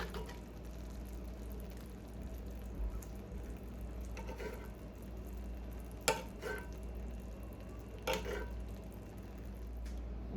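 A spoon bastes honey garlic glazed salmon in a pan, giving a faint steady sizzle with soft liquid stirring and a couple of sharp spoon clicks against the pan.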